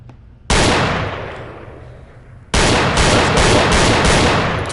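Gunfire in the VR game Gun Club VR: two sudden loud bursts of rapid automatic shots, each ringing out and decaying, the second burst longer and sustained.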